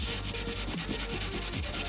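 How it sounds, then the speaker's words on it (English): A rhythmic back-and-forth scrub of 320 grit sandpaper over a Mustang's painted body panel, about eight quick even strokes, close and loud with no voices. "we're gonna be using a 320 sanding grit to, of course, sand off the scratches or rust."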